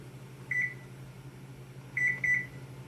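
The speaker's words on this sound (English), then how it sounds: "And I'm going to set my timer." A kitchen timer gives a single beep, then after a pause two quick beeps in succession as it is being set, sharp and close over a low background hum.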